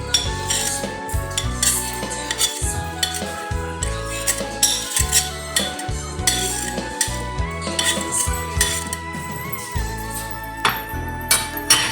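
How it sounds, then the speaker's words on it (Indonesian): A metal utensil scrapes and clinks against a wok in a steady stirring rhythm, with music playing underneath. "Masuk ke semua ke dalam wajan, diaduk sampai rata."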